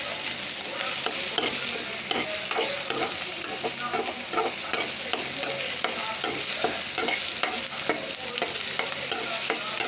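Crushed ginger, garlic and small shallots sauté in hot oil for a chicken gravy, with a steady sizzle and repeated scraping stirs in a regular rhythm, close and moderately loud, no voices.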